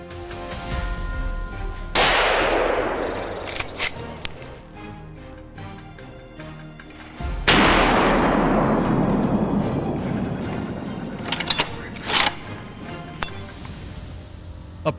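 Two loud gunshots during a wild boar hunt in the woods, each a sharp crack followed by a long rolling echo, with scattered faint knocks and rustles between them.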